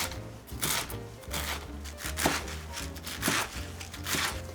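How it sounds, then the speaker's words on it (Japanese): A knife finely chopping spinach into small pieces on a cutting board while preparing a nursery-school lunch dish: soft, steady, rhythmic cuts, close and fairly quiet. "ほうれん草はそぼろに形状を合わせて細かめに切っていきましょう。"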